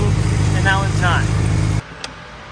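A street-bike-engined go-kart idles in first gear with its chain spinning, a steady near engine drone that cuts out abruptly near the end, leaving quiet with a brief click.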